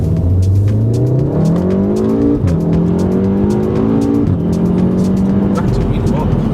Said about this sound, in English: My reaction when Shaq took me out in the car once he'd fully set up the custom map 6 was absolutely priceless